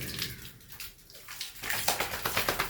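Warm water splashes and pours over a dog at bath time, a steady sloshing rush that swells louder and more continuous partway through.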